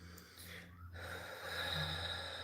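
Breathing through a clogged nose, close and quiet, with a sharp nasal snort-like intake followed by slow, congested breath sounds.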